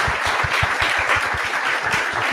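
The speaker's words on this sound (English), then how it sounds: "can we just give a warm round of applause for Brian?" A small audience gives a warm round of applause at the close of a talk, a brief burst of steady, fairly close clapping lasting a couple of seconds.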